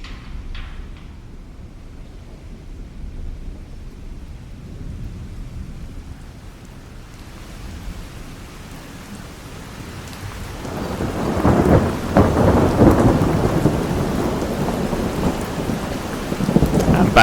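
A thunderstorm sound effect built in Krotos Studio: low rumbling wind and distant thunder swell into loud, dense rain and crackling thunder in the second half, building toward an incoming storm.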